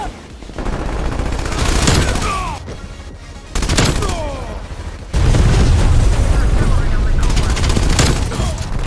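A PPSh-41 submachine gun fires in rapid sustained bursts in a shooter video game, loud and close, with short pauses between volleys and distant game booms mixed in.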